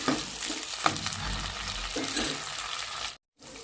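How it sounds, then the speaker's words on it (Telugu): Masala ingredients, green chillies among them, fry in a pan for brinjal curry with a steady close sizzle and occasional stirring clicks, with no talking over it. "చూడండి ఇలా వేగుతున్నాయి కదా"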